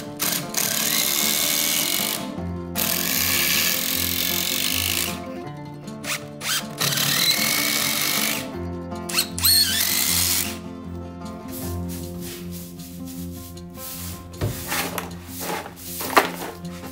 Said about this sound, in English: I'll attach the horizontal member and screw it with screws.